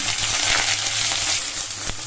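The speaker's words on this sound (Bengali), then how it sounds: "এবার দিয়ে দেবো কেটে রাখা বেগুন" Cut eggplant dropped into a pan of fried garlic and dried red chillies, giving a steady, close, loud broadband sizzle with a few soft clinks, and no talking.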